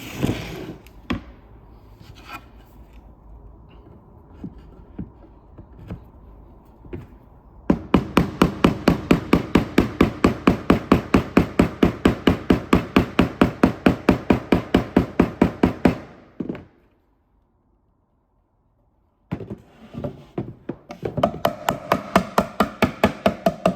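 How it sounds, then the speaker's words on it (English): Rubber mallet strikes knock handmade painted kitchen drawer parts together in fast, even bursts of many sharp taps, with short pauses between runs, close and loud, without talk. "with a rubber mallet literally just knocking those in"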